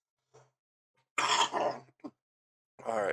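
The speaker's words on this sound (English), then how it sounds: "I still got a cough." One person coughs and clears their throat in a quiet room: a faint grunt, then a loud rasping throat-clear, a brief catch, and a final harsh clearing.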